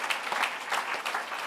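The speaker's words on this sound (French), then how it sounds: "je vous demande d'applaudir pour les encourager" Brief audience clapping at a French political assembly welcoming a new departmental team, a fairly close, uneven patter of many hands with no voices.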